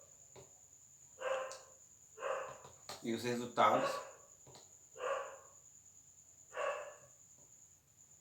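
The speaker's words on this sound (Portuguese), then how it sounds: "Vocês estão escutando um cachorrinho latir ali" A small dog barks repeatedly in short bursts, fairly faint and a little distant, under someone speaking Portuguese, with a steady high whine running throughout.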